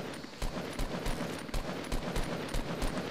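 Continuous rapid gunfire in a video game squad match, steady bursts of shots over dense game noise, no talking.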